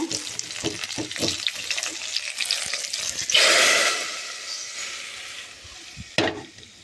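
Spice tempering sizzles as it is poured into a spinach (pasali keerai) gravy: steady frying crackle and stirring, then a loud hissing burst mid-way that slowly fades, with a brief sharp sizzle near the end.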